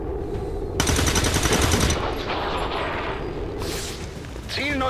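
Automatic gunfire from the video game XCOM 2 rattles in loud rapid bursts. A long, dense volley is followed by further shots and a short metallic whirring tail.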